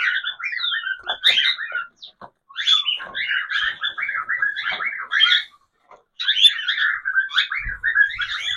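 Caged budgerigars eager for food chatter and chirp almost without a break, a close, lively string of shrill calls that stops briefly and then resumes.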